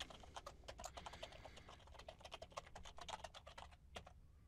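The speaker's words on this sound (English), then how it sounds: "I'll type in a recipient." Rapid, continuous clicking of keys on a computer keyboard while an email is typed on an Ubuntu desktop, quiet and close with no voices.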